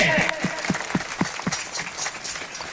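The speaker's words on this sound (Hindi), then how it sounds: "तालियां बजाइए।" Audience applause breaks out during a fiery political speech by a village sarpanch in Madhya Pradesh, a burst of rhythmic clapping near the front that spreads into a broad crowd patter under a voice at the start.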